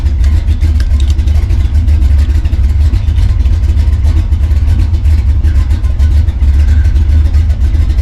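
A 1951 Chevy pickup truck engine fitted with a big race cam runs loud and close, a rough, lumpy low rumble that loafs unevenly at idle throughout.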